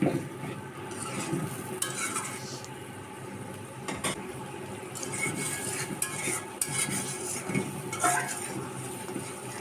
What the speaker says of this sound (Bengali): মশলাটা দেওয়ার পর আবার ভালো করে নেড়ে চেড়ে কষিয়ে নেব